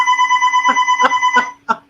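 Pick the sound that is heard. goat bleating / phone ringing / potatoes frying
phone ringing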